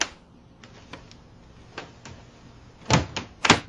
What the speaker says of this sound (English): Wow, the door fell off.